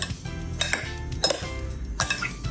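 Sliced eggplant being mixed with two slightly beaten eggs in a bowl, giving a few close, separate clinks and scrapes of utensil against the dish.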